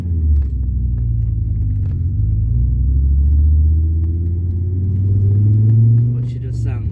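A 2.3-litre V5-engined Volkswagen Beetle rumbles low and steady from inside the car while driving, swelling slightly as it accelerates, with faint clicks near the end.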